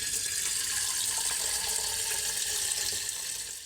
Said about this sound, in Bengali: তো চলো এইগুলো একটু ধুয়ে নিই।